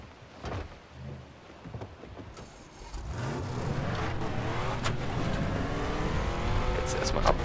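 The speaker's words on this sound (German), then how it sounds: "das ist wieder dieser Strandbuggy" A beach buggy driven in Far Cry 3, its engine starting up and then holding a steady, loud drone with rising harmonic revs through most of the stretch, with faint thumps beforehand and no talking.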